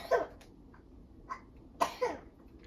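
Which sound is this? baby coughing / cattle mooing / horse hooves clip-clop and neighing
baby coughing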